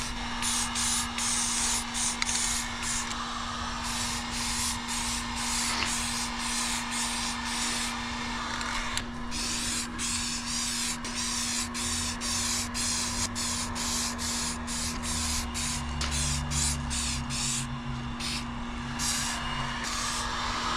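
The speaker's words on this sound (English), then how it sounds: "spray my adhesion promoter on here, especially around the edges" Repeated short bursts of adhesion promoter spraying from an aerosol can onto a plastic bumper, close and hissy, in a steady rhythm with brief pauses, over a constant low electrical hum.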